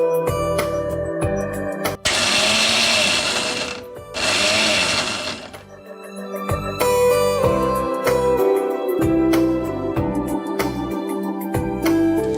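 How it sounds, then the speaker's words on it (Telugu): An electric mixer grinder whirs loudly through roasted sesame seeds in two sustained bursts of several seconds each, separated by a short pause, with quieter kitchen sounds around them. "సో ఆ కన్సిస్టెన్సీ వచ్చేలోపు మనం దీన్ని మిక్సీ పట్టేసుకుందాం."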